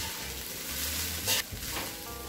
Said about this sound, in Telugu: రైస్ వేసేసిన తర్వాత అంతా ఒకసారి బాగా కలుపుకోవాలి